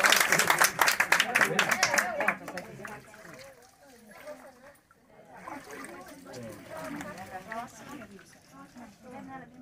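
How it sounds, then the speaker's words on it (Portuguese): A burst of congregation clapping at a church baptism for about two seconds, then fading out as a voice speaks over a quieter room. "Cada pessoa, a gente dá um aplauso."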